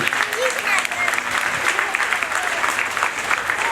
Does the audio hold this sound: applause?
yes